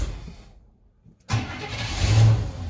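A truck engine cranks and catches after fuel is added: a brief rough turnover, a second of near silence, then it fires abruptly into a rumbling idle that swells into a low rev.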